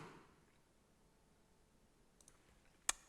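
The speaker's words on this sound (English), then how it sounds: "Click on create new." A single sharp mouse click near the end, on the create new button in the FlutterFlow app builder, faint and alone against a quiet background.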